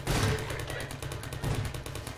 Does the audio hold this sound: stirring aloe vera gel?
no